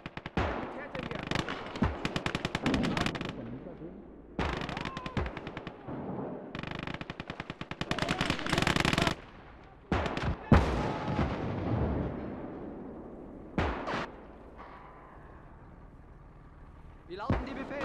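Enemy gunfire rattles through a World War II battle in Call to Arms Gates of Hell: repeated machine-gun bursts and sharp shots, some close and loud, others fainter, with shouted voices between them.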